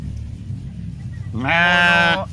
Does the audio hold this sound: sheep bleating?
yes